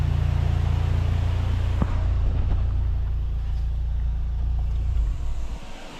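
A Honda Civic Type R with a K20 engine and a new stainless Injen exhaust pulls away, a loud steady low exhaust rumble with a thump near the start that fades as the car moves off.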